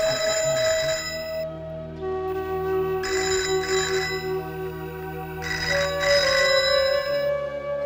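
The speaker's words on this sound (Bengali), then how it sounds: "ফোনটা বাজছে।" A telephone ringtone plays in repeated electronic tonal bursts with short gaps between them, clear and close with nothing else heard.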